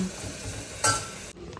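Eggplant slices frying in a pan sizzle steadily, with a brief louder burst of stirring or turning near the end before the sound cuts off.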